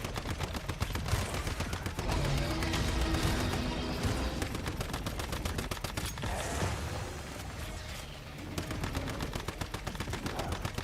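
Rapid sustained automatic gunfire in the shooter game Once Human, loud close bursts of dense repeating shots that run almost without pause, briefly thinning near the end before resuming.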